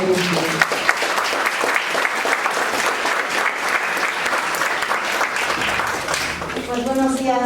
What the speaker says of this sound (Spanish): recibamos nuevamente con un aplauso a la doctora María Cristina González